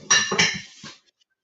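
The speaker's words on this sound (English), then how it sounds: "And I'll cover the pot again for it to simmer" A metal lid set onto a cooking pot of simmering yam and vegetable sauce: two quick close clanks followed by a softer settling clink, then silence.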